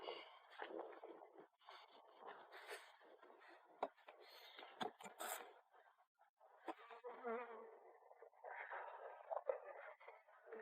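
Many honeybees buzz close by around an open, strong hive in an uneven, swelling drone, with occasional louder passes near the microphone and no talking.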